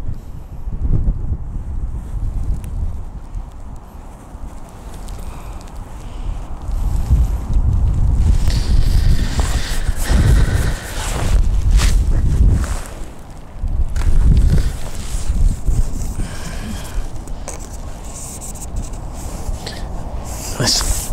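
Strong, gusty wind buffets the microphone at a cold-water fishing spot, a steady low rumble swelling into louder blasts around the middle and easing slightly toward the end.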